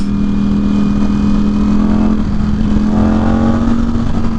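A Ducati Streetfighter V4 motorcycle engine cruises slowly in sixth gear, a steady low drone with a constant hum and rumbling vibration continuing unbroken throughout, close and fairly loud.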